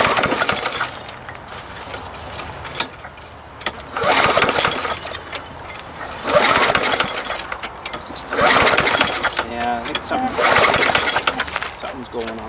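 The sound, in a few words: lawn mower being pull-started, engine not starting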